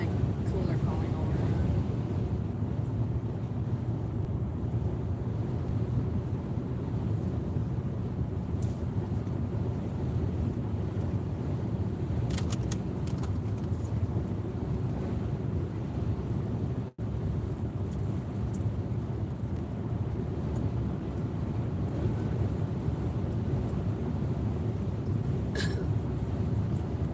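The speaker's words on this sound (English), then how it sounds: "the wind is really pushing around" Strong storm wind roaring steadily and loudly throughout, a constant buffeting rush outdoors with little variation.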